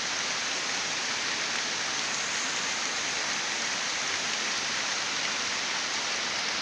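Steady, heavy rain pours down during the rainy season after a long dry spell, a dense, even hiss that stays constant and close throughout with no voices.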